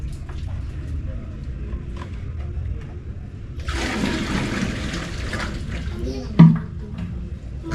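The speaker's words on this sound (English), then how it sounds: "I just came to fetch water in the borehole" Water gushing from a borehole pump, a rushing pour that starts midway and runs steadily, with a sharp knock near the end and faint background noise before it.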